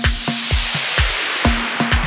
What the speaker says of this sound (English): I have just added a riser from Vengeance